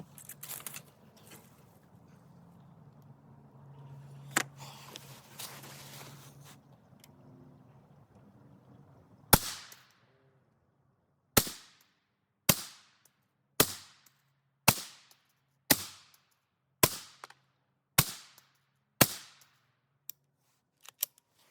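Ten gunshots from a rifle fired through an offset red dot sight, evenly spaced about a second apart with sharp loud reports, following a stretch of quiet rustling and low background noise.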